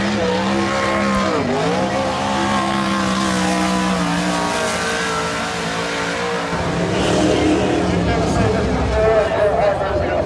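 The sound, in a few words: race cars driving warm-up laps around the track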